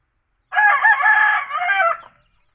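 A pet rooster lets out one loud, drawn-out crow at close range, about a second and a half long, with no other sound around it.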